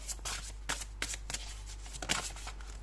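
Tarot cards are shuffled up close in quick, papery riffles, with several sharp bursts over a steady low hum and no talking.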